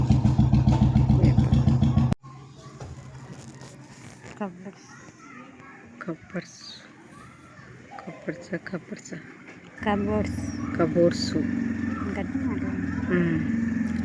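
A motor vehicle engine rumbles loudly and steadily at first, then cuts off abruptly, and a lower engine drone returns later beneath children's chatter and playful voices nearby.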